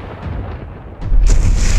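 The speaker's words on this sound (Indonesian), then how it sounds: "Truk meledak." A truck explosion: a deep, rumbling boom swells up and holds, a heavy low roar like a large blast, loud and close with a rushing wash on top.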